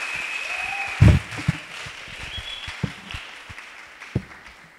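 A church congregation at a women's convention claps for the Lord. The applause is moderate and scattered under a high held tone, with a few sharper individual claps standing out.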